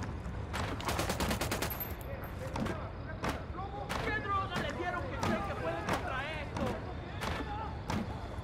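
Sharp bursts of gunfire from Tom Clancy's Ghost Recon Wildlands, a rapid rattling volley followed by spaced single shots, with players talking over the combat.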